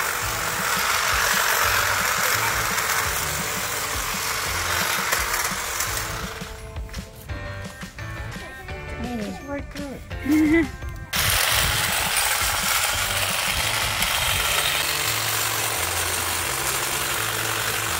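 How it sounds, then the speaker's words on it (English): Electric hedge trimmer cutting through a wax leaf hedge outdoors, a loud steady buzzing motor drone running throughout, briefly dropping into a quieter idle and faint clatter midway before resuming at full power. "This electric hedge trimmer was amazing."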